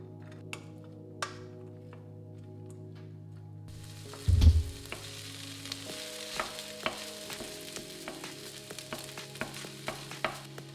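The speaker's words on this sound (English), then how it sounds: "Heat up 2 tablespoons of oil and fry 2 chopped onions until they become soft and translucent." Two chopped onions sizzling in two tablespoons of hot oil for a beef hotpot, a steady close frying hiss that swells after a quiet start, with light stirring clicks and no voices.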